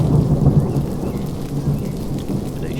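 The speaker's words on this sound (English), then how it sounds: "there was a loud crash of thunder" A thunderstorm rumbles with a deep crash of thunder rolling under steady rain, the low booming sustained and loud throughout the short stretch, with no voices.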